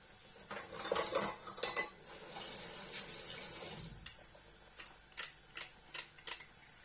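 A utensil stirs melted sugar in a metal pan for apricot sorbet, clinking and scraping close by, with busier stirring early on and then a run of separate taps and knocks.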